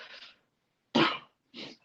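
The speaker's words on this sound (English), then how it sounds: "excuse me, I sneezed" A single sharp sneeze bursts out close by, with a softer breathy sound just before it and a brief exhale right after, in an otherwise quiet room.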